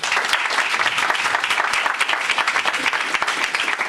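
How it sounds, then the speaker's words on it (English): Sustained applause from a crowd at a Black History Month celebration, dense steady clapping filling the space at a loud, even level throughout. "she gets another round of applause"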